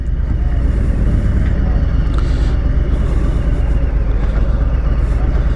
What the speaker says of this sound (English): All right, so now we're taking off on the Street Bob.